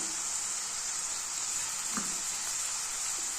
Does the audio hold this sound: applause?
no